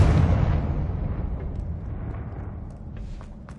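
A Confringo blasting spell explodes in Hogwarts Legacy with a loud low rumbling boom that decays slowly over a few seconds, with faint crackles scattered through the tail.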